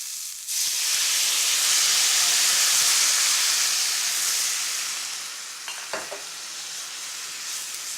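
Vegetables for falia di sabjee hiss and steam steadily in a hot wok after a splash of water, a broad continuous sizzle that fades slightly, with a few light clinks near the end.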